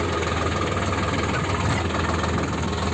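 Sonalika 50hp 4wd tractor engine running while being driven: a constant loud, low diesel rumble with a rapid knocking pulse and vibration, close and steady throughout, no voices.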